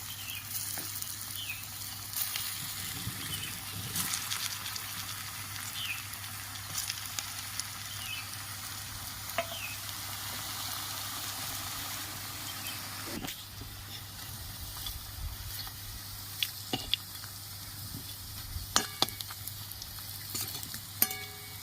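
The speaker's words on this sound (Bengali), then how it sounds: "দেখুন একইভাবে আবার সব আমি ভেজে নেবো" Steady oil sizzling and crackling throughout, with occasional scrapes and clinks of a utensil stirring in the pan as dhoka (lentil cakes) fry, fairly close and moderately quiet.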